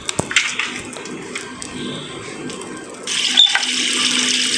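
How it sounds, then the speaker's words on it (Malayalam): Water running from a pipe tap in the mobile game Secret in Emily, preceded by a few sharp clicks and clatter, then a steady gushing stream starting midway and continuing loud to the end. "നമുക്ക് ഇവിടെ നിന്ന് പൈപ്പിൽ നിന്ന് വെള്ളം എടുക്കാം"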